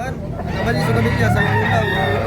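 Big, two-year-old roosters at a Tabunok, Cebu poultry market keep up steady overlapping crowing and clucking, loud and near, over a murmur of human voices.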